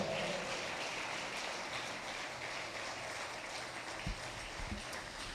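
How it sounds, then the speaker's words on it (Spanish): Church congregation during a fasting service applauding God, a steady wash of clapping heard faintly and at a distance, with a couple of sharper knocks near the end. "Si usted cree eso, grítelo en esta hora y dele un aplauso a nuestro Dios."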